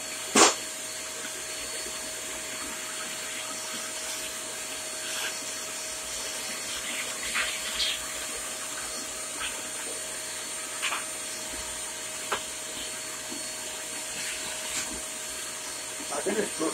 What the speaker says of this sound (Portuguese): o nosso aspirador, o que ele vai fazer, ó. Puxar toda essa poeira que tá aqui dentro